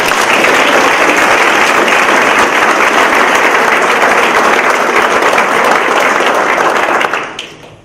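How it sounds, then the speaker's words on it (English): Loud, dense applause from a book-awards audience honoring a branch library, sustained evenly for about seven seconds before tapering off quickly at the end. "So let's please give them a round of applause."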